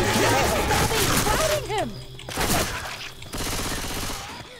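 Machine gun fire in Left 4 Dead 2, rapid close bursts chattering in short volleys with brief gaps, mixed with other game sounds and players talking over the shooting.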